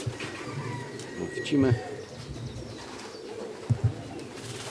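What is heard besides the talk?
pigeons cooing and walking around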